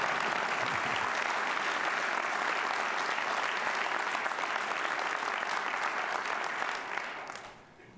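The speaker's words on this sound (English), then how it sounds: "Now you can applaud." A crowd applauds Governor Arnold Schwarzenegger steadily, loud and sustained, before the clapping fades out at the end.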